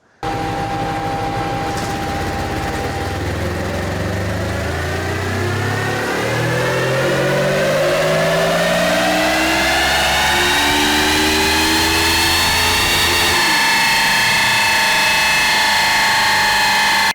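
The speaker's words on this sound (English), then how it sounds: "I measured this bike on my dyno." A Moto Morini X-Cape 700 motorcycle's engine runs on a dynamometer, revving steadily upward over about seventeen seconds, its loud rising whine and climbing harmonics continuous, then levelling off at high revs near the end.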